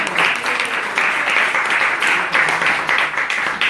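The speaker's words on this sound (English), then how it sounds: "Let's give Bo-May a big round of applause as well." Sustained audience applause fills a talk gathering at a temple, dense steady clapping from a crowd heard close and loud throughout with no speech over it.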